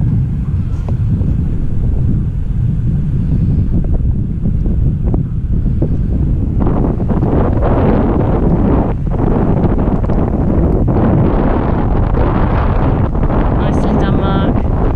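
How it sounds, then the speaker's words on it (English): Strong wind buffets the microphone as a widebeam canal boat drifts and turns on the tidal Thames with other boats trailing behind, a steady loud rumble that thickens and gusts harder in the second half, with voices faintly under it. "The wind comes along."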